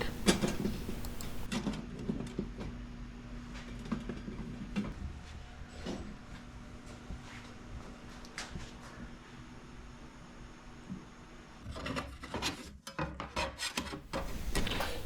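Metal plates of a wood-fired backpacking camp stove being fitted together by hand, with scattered scrapes, light clinks and rubbing handling noises, the busiest bursts at the start and near the end.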